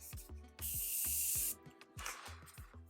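An aerosol spray hisses in two short bursts: a longer, louder spritz, then a softer one, with quiet music in the background.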